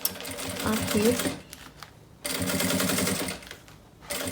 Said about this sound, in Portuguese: Entro agora aqui na minha máquina e passo a primeira costura